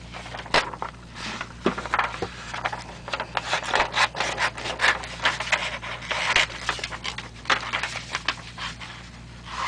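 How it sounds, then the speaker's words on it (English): Hand-sawing a wooden letter Y cut from a board, a steady scratchy rasp of rapid back-and-forth strokes, close and continuous with no talk. "Now we're going to cut out the Y."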